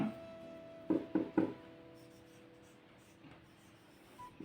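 Pen writing out a math solution on paper, a few quick close scratchy strokes in a cluster followed by quieter faint scribbling.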